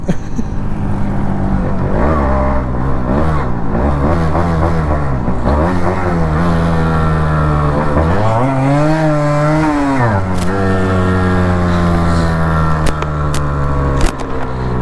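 A seized two-stroke Suzuki Shogun motorcycle engine revs loud and close. It rises and falls repeatedly with a raspy buzz, holds one long high surge, then drops back to a rough idle.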